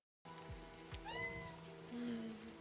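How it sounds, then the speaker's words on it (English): A small winged pet cat in a visual novel game gives a single soft meow. It sits over a faint rain-like background and gentle sustained tones. "We have a pet kitty! Oh, he's got little wings!"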